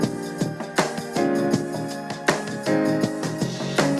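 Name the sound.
music sample slowed from 200 to about 160 BPM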